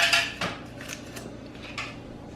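A metal 12-cup muffin pan is handled up close in a home kitchen, giving a few sharp metallic clanks and clatters spaced apart, then fading to quiet.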